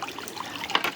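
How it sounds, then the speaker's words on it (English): A small water stream trickles and babbles nearby, feeding a scrap-built water wheel generator, with soft continuous splashing and a few brighter gurgles, no talking. "Is that a water stream right there?"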